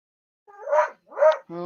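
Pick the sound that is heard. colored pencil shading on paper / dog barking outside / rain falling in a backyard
dog barking outside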